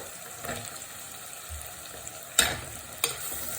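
Drumsticks go into onions frying in a pan for prawn curry: a low sizzle with a few sharp knocks and scrapes as the pieces are added and stirred, close and with no talking.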